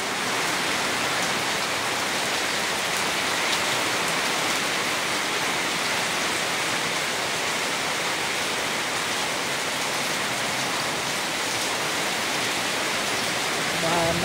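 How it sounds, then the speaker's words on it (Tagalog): Heavy rain pours down in a dense, constant roar during flooding, drumming steadily on surfaces without a break. "Tigil ang ulan, bahana."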